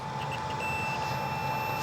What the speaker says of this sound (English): We have a beep when we get continuity.